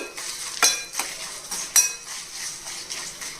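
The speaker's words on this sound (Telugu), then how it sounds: "ఇదిగోండి తాలింపు చక్కగా వేగిపోయింది" Talimpu tempering sizzles in a pan, a steady bright frying hiss broken by a couple of sharp clinks as it is stirred.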